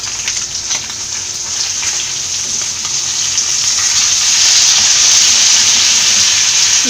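Kerala-style fish fry sizzling in a pan over medium flame, a loud continuous crackle and hiss that swells gradually, with no talking.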